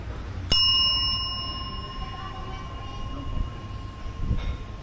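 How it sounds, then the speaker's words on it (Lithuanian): A small service bell at a restaurant in Cambodia is struck once to call for food, a bright, sharp ding that rings on and slowly fades over faint background noise. "kai išsirenki maistą, gali paskambyti varpeliu"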